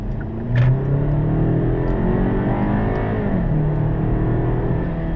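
A Hyundai Sonata's naturally aspirated inline-four revs loud and close, a steady mid-pitched engine drone rising and holding across the moment with a brief louder swell early on.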